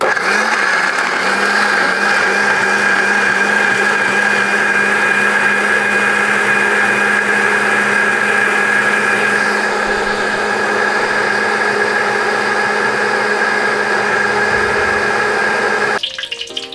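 Electric blender grinding spice paste ingredients for prawn rendang until smooth, a loud steady whirring drone that runs nearly unbroken for about sixteen seconds, then cuts off abruptly at the end.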